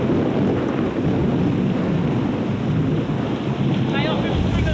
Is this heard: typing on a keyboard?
no